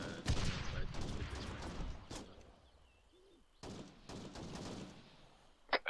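Arma video game gunfire cracks in irregular bursts and volleys, some shots sharp and close, others more distant, separated by brief lulls, with a faint voice underneath.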